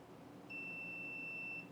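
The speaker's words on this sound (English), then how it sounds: "gives you a long beep, and it should be muted" A single long electronic beep from a UPS as its alarm is muted, steady and high-pitched, starting after a brief hiss and holding for over a second.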